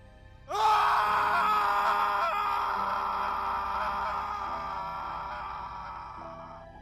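A loud, sustained vocal cry bursts out suddenly and holds for several seconds, slowly fading, like a man's scream or wail with no other talk.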